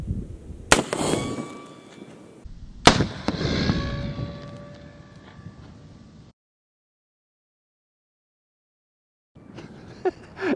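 A Micro 50 BMG round is fired into ballistic gel: two sharp, loud gunshot cracks about two seconds apart, each with a ringing metallic tail and an echoing decay, followed by silence and a faint later click.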